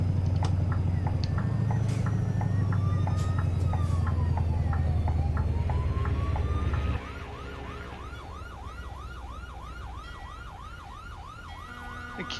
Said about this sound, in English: It's alright, it's a fire alarm.